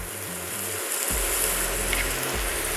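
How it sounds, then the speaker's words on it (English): Onion and garlic sautéing in a pan for a steak and cheese pot pie give off a steady, close sizzle that holds evenly throughout with no voices. "we're just going to get a little bit of onion softened up, sauteed if you will"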